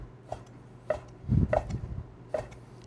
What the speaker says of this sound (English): We're gonna chop it up, not too fine, just, you know, some big chunks, bacon.